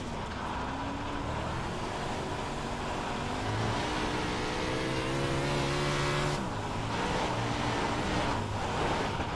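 A big block modified race car in the iRacing sim at Cedar Lake Speedway, its engine droning and rising in pitch through steady throttle, with a brief lift and re-rev near the end, loud and continuous with no voices.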